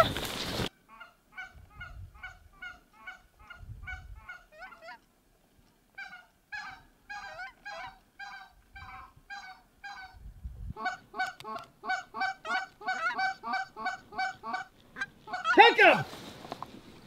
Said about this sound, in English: Oh yeah, they'll come.